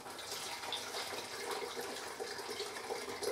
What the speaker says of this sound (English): We're going to take warm water, not boiling hot water.